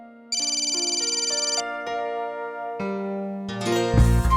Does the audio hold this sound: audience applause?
no